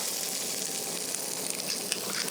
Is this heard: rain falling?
no